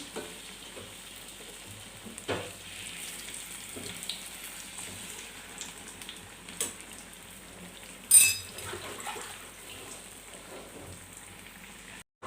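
Bread pakoras frying in hot oil, a soft steady sizzle with occasional sharper clacks as pieces are flipped in the pan, fairly quiet and close, no voices.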